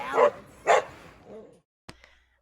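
Dogs give two loud, sharp barks in quick succession, then softer whimpering that fades, followed by a brief sharp knock near the end.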